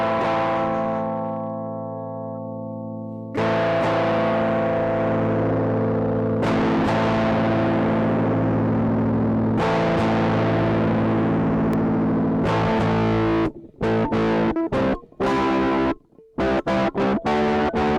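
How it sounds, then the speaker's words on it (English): Electric guitar through a cheap turbo distortion pedal: heavily distorted chords ring out loud and sustained, struck several times, then choppy short stabs separated by abrupt silences near the end. "now let's try the same thing with the turbo distortion"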